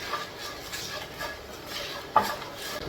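A spoon stirs Kerala-style buttermilk curry (moru curry) in a pan after turmeric and chilli powder go in, giving soft scraping and clinking with one sharper knock near the end, moderately quiet and unaccompanied by talk.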